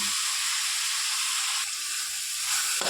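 Kakrol seeds, garlic and green chili being stir-fried in hot oil: a steady, close sizzle and hiss runs throughout with faint stirring knocks underneath.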